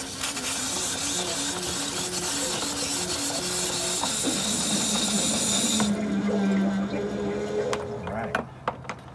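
Water and compressed air blast out of the outside shower of a 2019 Outdoors RV 21KVS being winterized, a loud continuous hissing spray that stops after several seconds, followed by sputtering and a few clicks.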